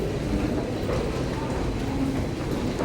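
A passenger train ride heading toward the airport, a steady low rumble and rolling drone of the carriage, continuous and fairly loud with no talk.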